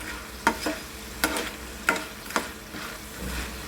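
Diced potatoes shallow-fry in a pan of oil for sabudana khichdi, giving a steady close sizzle broken every half second or so by sharp scraping strokes of a spatula turning them. No voices.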